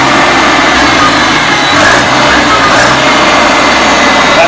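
A restored 1975 International Farmall Cub tractor engine runs at full throttle, a loud, close, steady small-engine drone with rapid even firing and slight pitch wavering.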